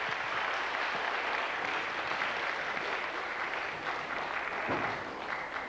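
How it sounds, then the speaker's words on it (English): Sustained applause from a concert audience at a 2000 memorial concert in Roslea, following a performance by Mary McAdam's group; steady, dense clapping throughout with no talk. "Give them another big round of applause."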